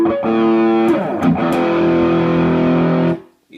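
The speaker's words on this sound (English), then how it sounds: "Classic distortion." An electric guitar played through a classic distortion pedal rings out a loud, sustained, saturated chord for about three seconds, then cuts off abruptly to silence.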